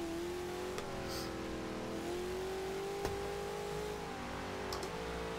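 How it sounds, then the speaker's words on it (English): Chevrolet Chevelle SS engine in Forza Horizon 2, a steady loud drone with pitch rising gradually as the car revs and accelerates, brief clicks and dips between gear changes, no talking. "this engine sounds absolutely incredible"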